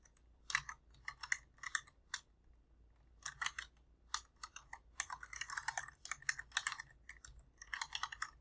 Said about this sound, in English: I was texting, or not texting, but typing something into the Discord.